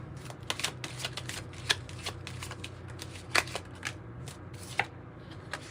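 A Kipper oracle card deck being shuffled at close range, with a steady run of soft riffling and sharper card snaps repeating irregularly across the whole stretch, no talking.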